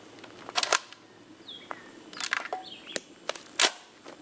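A rifle bolt is cycled to clear a jam during a field test, giving a few sharp close metallic clacks and slides spaced out over a few seconds against quiet outdoor background.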